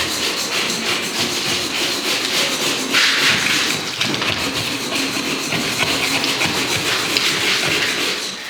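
Failed plaster being chipped off a wall by hand, a steady stream of scraping, tapping and crumbling that sounds close and continuous with no pauses.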